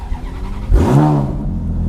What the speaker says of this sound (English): I think you should hear the majesty of this car starting